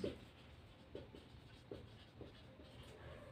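A pen writes by hand on paper, giving faint, soft scratching strokes in short bursts, about six of them, close but quiet.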